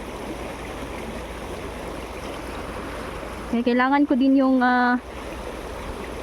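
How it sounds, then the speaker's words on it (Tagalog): Heavy rain pours steadily around a house with a leaking roof, a dense, unbroken hiss that runs the whole time while a person speaks briefly in the middle over it. "sobrang lakas po ng ulan dito"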